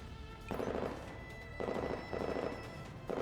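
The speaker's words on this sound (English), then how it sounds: "Lighting gunshots ring out behind her." Gunfire in a video game, bursts of rapid shots crackling behind a fleeing character in four loud clusters separated by brief pauses, with no talking.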